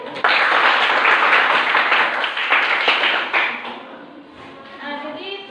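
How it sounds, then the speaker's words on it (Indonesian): Classroom applause for student groups after their presentations, a dense burst of clapping from a class that starts sharply, holds for a few seconds, then fades as a voice begins speaking. "kita tepuk tangan dulu."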